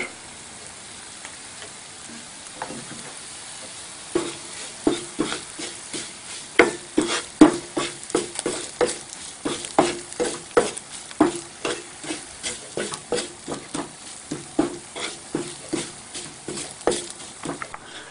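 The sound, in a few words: frying coriander powder with ginger in a pan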